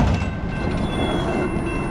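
A CSX M300 freight train of empty garbage cans rolls past close by at 49 mph, a loud continuous rumble with wheel noise and faint rhythmic rail clatter.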